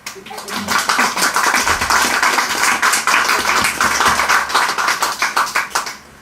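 A church congregation applauds during a sermon, dense steady clapping from many hands that fills the room for several seconds before tapering off.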